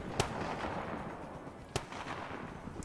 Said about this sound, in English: you're hearing this thing still using its cannon